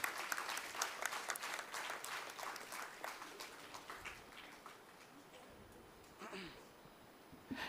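An audience at a self-empowerment talk gives a round of applause, fairly faint and distant, with dense clapping that gradually thins and fades out toward the end.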